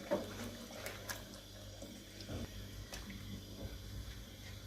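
About a glass of water is poured into a pot of matar chicken curry as it cooks, making a quiet, continuous liquid trickle and splash with a few soft clinks.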